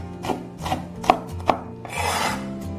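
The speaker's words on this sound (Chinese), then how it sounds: "准备1把大蒜，先拍碎，切成蒜末。" A knife chops crushed garlic into mince on a cutting board. A few sharp, distinct strikes land close by, then turn into a quicker scraping run of chopping near the end. No one speaks.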